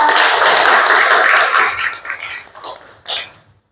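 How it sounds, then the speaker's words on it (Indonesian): Teachers at a school training session applauding a colleague, a dense round of clapping that thins out into a few scattered, fading claps. "Beri tepuk tangan buat Bu Rosita."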